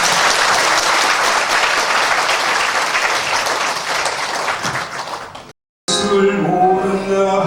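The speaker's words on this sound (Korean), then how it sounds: "우리 수료자 대표자 되시는 분들께 힘차게 박수 쳐주시기 바랍니다." A church congregation at a Presbyterian graduation service claps loudly and steadily for the graduates for about five seconds, the sound easing slightly before breaking off into a brief silence and then singing with accompaniment.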